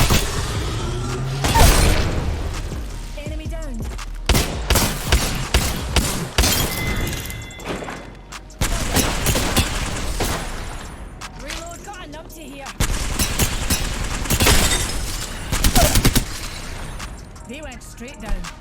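Video game gunfire cracks out in dense, loud bursts of rapid shots and booms, with steady rattling volleys and short pauses in between.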